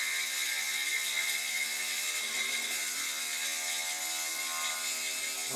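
A magnetically spun sphere tumbling end over end inside its housing gives a steady, fast mechanical rattle, like a ratchet or whirring gears, continuous and even throughout.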